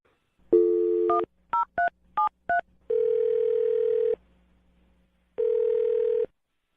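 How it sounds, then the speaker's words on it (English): Dialing a telephone number: a sequence of distinct touch-tone beeps, three short quick ones between longer tones, with two sustained steady tones after them, clear and close on a quiet line. "I'm going to dial his phone number right now"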